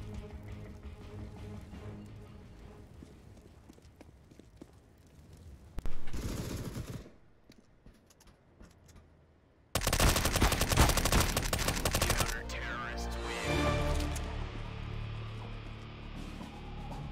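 Loud bursts of automatic gunfire and shotgun blasts in the video game CS:GO, coming in dense rapid volleys with short quieter gaps between them.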